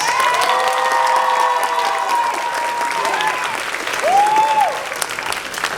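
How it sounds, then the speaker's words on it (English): Pageant audience applause for the winners, steady loud clapping throughout with scattered whoops and a cheering voice cutting through the crowd. "Let's get one more round of applause for our winners."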